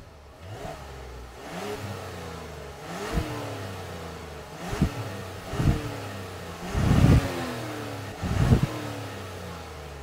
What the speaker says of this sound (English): I think it's high time that we experience this inline six-cylinder engine